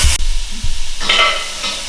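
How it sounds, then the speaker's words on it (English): Daikon and carrots sauté in ghee in a pan, giving a soft steady sizzle. A few stirring scrapes and clunks sound close up, with no talking. "So we're going to let the vegetables just saute for a little bit."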